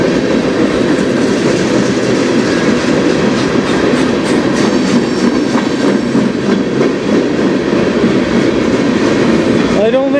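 A CN local industrial freight train runs by on the Strathroy Subdivision tracks, its steady loud roar and rhythmic clickety-clack of wheels on rail joints filling the whole stretch, with a brief wheel squeal near the end.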